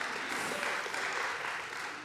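An audience at a writers' awards ceremony claps steadily, a dense, even wash of applause from a full room that fades slightly at the end.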